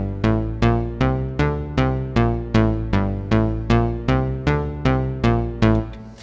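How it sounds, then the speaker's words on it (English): Scene three of a pattern on a Carbon sequencer, a steady looping synth sequence of repeated pitched notes with a regular pulsing rhythm, close and full, with no talking. "And scene three sounds like this."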